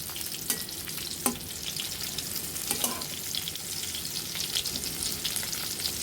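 Raw jackfruit pieces fry in a pan over medium-low heat, giving a steady, close sizzle with a few sharp stirring clicks and no voices.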